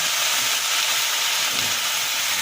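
Dried red chilies fry in hot oil for a mint and coriander thuvaiyal, giving a loud, steady, continuous sizzle throughout with no talking.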